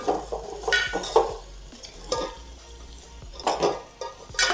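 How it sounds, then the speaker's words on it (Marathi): Moth beans (matki) stirred and sautéed in a hot pot for a Marathi matki bhaji, with repeated close spoon scrapes and metallic clinks over a soft frying sizzle and no voices. "ही मटकी टाकायची त्यालाच परतून घ्यायची चांगली"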